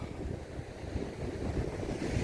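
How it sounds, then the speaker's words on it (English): Wind buffets the microphone in a steady, rumbling rush on a blustery, chilly morning, loud and close, with no voices. "It's windy, it's a bit chilly"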